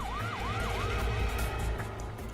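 Wailing police siren rising and falling in quick repeated sweeps, loud and fairly close over a low engine rumble, with no talk.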